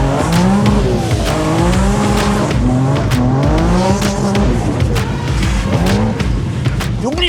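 A heavily modified BMW M5 making about 2000 hp drives hard, its loud engine rising and falling steadily, with tire squeal through corners and some talk underneath.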